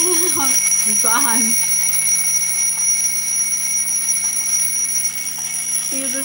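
A Supreme alarm clock rings with a steady, continuous electronic beeping tone, loud and close, while a person talks briefly over the start of it.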